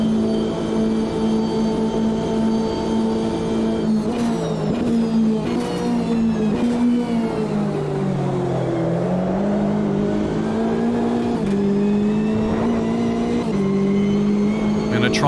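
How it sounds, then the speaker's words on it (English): A Chevrolet Corvette C8.R race car in the Automobilista 2 sim racing game at Daytona, its engine note holding a loud steady drone and dipping and rising through gear changes, with a voice talking over it. "The fact that I'm driving a C8R."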